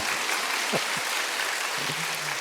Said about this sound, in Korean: 이때 박수를 치셔야 돼요.